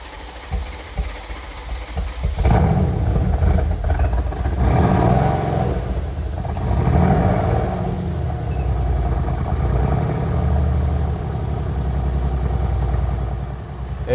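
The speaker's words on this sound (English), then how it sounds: "we can fire up this car for the first time" A rebuilt Mercedes C63S AMG engine cranks and fires up after a brief hush, then settles into a loud, steady, rumbling idle with a few swells of revving, close by and without talk.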